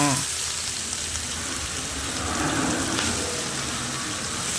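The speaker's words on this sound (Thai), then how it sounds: "มีทั้งผักกาดขาวแล้วก็กระลำปีอ่นนะคะ ผัดเลย" Chinese cabbage, cabbage and whole enoki mushrooms stir-fry with pork in a hot pan, giving a dense, close, rain-like sizzle that continues throughout with no voices.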